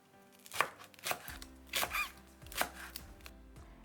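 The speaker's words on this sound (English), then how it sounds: "chop 20 grams of garlic" Twenty grams of garlic chopped with a knife on a board, with about five sharp chops in an uneven rhythm, close but quiet, with little else around them.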